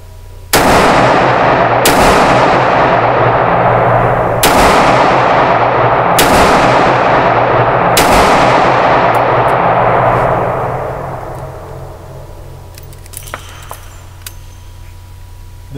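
Five loud pistol shots from an S.A. GI A1 OD green at a shooting range, spaced roughly a second or two apart, each with a sharp crack and a long rolling echo that fades slowly after the last shot.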